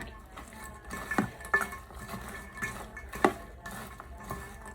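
Popcorn mixture stirred in a pot, soft scraping with a few sharp clinks of utensil against metal in an irregular rhythm, close and fairly quiet.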